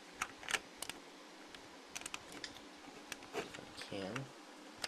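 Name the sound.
Lego Atlantis portal key being inserted into gate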